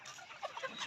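Eighty-day-old layer pullet hens, recently beak-trimmed, cluck softly in a farm shed; several short, faint clucks and chirps come and go in quick succession against quiet background noise.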